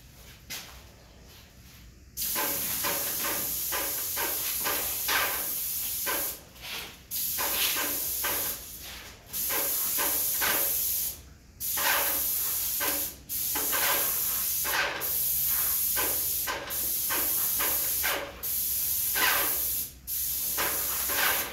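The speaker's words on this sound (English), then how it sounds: "Now I'm going to spray the inside of this casing here." An airless sprayer lays varnish onto a door casing in a run of loud, close hissing bursts, each lasting a second or two and separated by short gaps of quiet as the trigger is released and pulled again.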